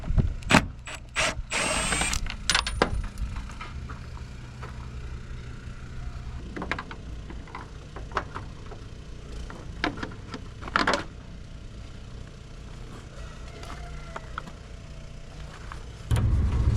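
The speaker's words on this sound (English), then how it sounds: "There's no way this is the correct way to take this one bolt off, but I keep bending the bracket" A socket wrench works on a stubborn fender bolt of a damaged work truck, with clattering tool and metal knocks at the start, then scattered ratchet clicks and taps over a steady low background hum, no speech.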